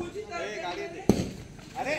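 A tadtadi firecracker goes off during Diwali celebrations in a village, with one sharp crackling burst in the middle while people talk nearby.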